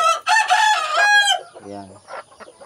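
Native-breed chickens cluck close by in a short burst, with a lower, rounder call from one bird near the end of the run.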